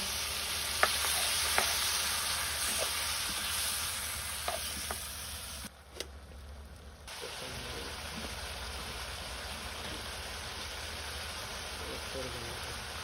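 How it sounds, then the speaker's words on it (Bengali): Spices cooking with chili powder and water in a pan over a village fire, a continuous soft hiss and sizzle with a few faint utensil taps and a brief dip in the sound partway through. "মরিচের গুঁড়া, জল দিয়ে কষা নিব।"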